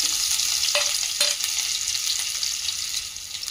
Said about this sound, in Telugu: ఇగో కొంచెం వేగిపోయినాయి ఉల్లిపాయలు